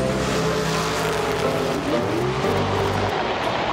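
Drag race car launching from the line on a quarter-mile strip, a loud, sustained engine roar with a pitch sweep as it pulls away, continuous from start to finish with no talk over it.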